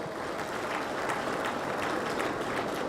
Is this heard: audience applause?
yes